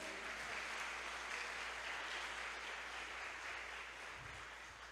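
A church congregation claps together in a continuous, fairly faint wash of applause heard from a distance, holding steady for several seconds before easing slightly.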